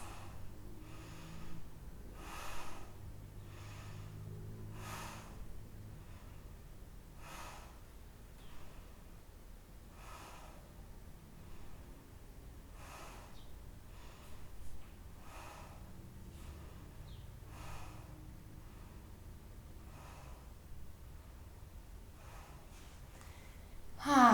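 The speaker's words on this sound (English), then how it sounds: "10 deep breaths." Slow deep breaths during a yoga flow session, each long inhale and exhale repeating at a steady, unhurried pace, soft and close, with faint background ambience and no talking.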